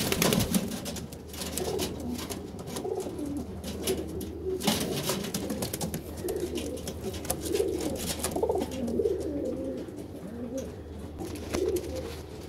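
Pigeons of a Madrasi pair coo in soft, repeated low murmurs close by, continuing steadily over a low background hum with no talking.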